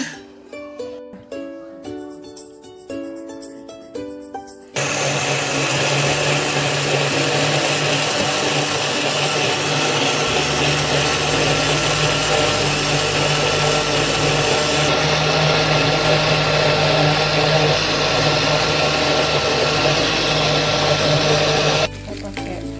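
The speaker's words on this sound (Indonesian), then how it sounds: "Kita blender." A kitchen blender whirs loudly and steadily for most of the stretch, blending fruit for a healthy children's snack. Brief clatter and voices come before it starts, and the motor cuts off near the end.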